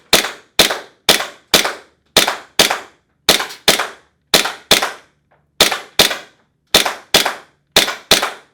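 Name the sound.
Tokyo Marui M9 gas airsoft pistol shooting 0.2 gram BBs at target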